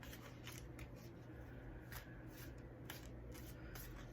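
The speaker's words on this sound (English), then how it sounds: "now I am shuffling through my Healing with the Angels cards" Healing with the Angels oracle cards being shuffled by hand, a steady close run of soft papery riffles and flicks over faint room hum, with no talking.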